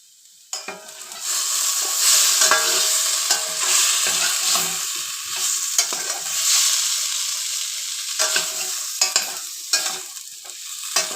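Potatoes and pointed gourd sizzle steadily in a frying pan while being stirred, with repeated scraping and clinking of the spatula over continuous frying hiss, close up and without talk.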